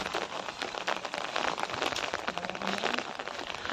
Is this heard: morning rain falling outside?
yes